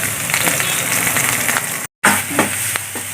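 Onion, green chilli and curry leaves sizzle steadily in hot oil while a thoran of carrot and drumstick leaves is cooked, a loud, continuous frying hiss with a brief dropout in the middle and a few soft stirring knocks.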